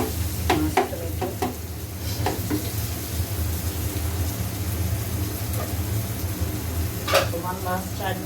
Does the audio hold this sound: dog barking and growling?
no